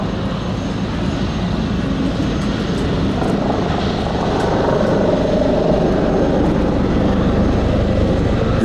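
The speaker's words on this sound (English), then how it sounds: "The CH-53 now transitions from forward flight into a standard quick-stop maneuver" A Sikorsky CH-53K King Stallion heavy-lift helicopter performing a flying display at an airshow, with a loud, steady roar of rotors and turbine engines that holds throughout and swells slightly toward the end.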